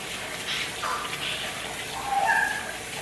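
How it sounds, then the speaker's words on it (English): Jasmine rice being rinsed in water, with a steady wash of running and sloshing water that swells briefly toward the end, close and moderately loud. "To prep my rice, I will rinse"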